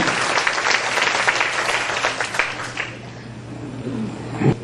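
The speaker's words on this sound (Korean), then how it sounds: "여러분, 다시 한번 격려의 박수 좀 보내드리겠습니다." Applause for head office staff at a company's 10th anniversary event, dense clapping from a hall audience that swells early, then thins and fades toward the end with a few scattered claps.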